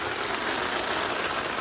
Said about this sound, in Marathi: पाऊस आलेला आहे